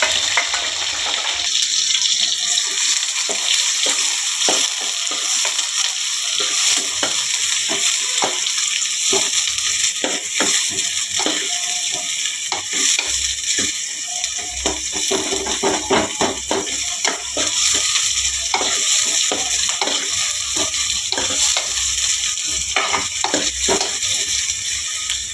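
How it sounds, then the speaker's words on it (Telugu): Onions fry and get stirred in hot oil for a village-style fry dish, sizzling loudly and continuously with scraping and stirring clatter throughout. "నూనె కాగింది ఫ్రెండ్స్, ఆనియన్ వేస్తున్నా."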